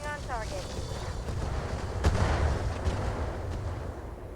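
Mech weapons firing on a target in the BattleTech game (Roguetech mod), a heavy rumbling barrage with one sharp blast partway through, played over busy game noise with some talk in the mix.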